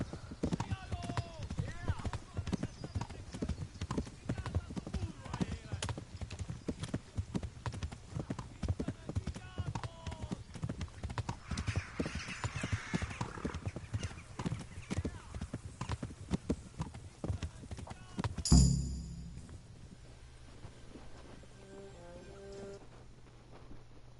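Rapid hoof clip-clops of a horse in the video game Kingdom Come: Deliverance run steadily for most of the stretch with speech over them, then stop abruptly, leaving quiet hum and a few faint tones.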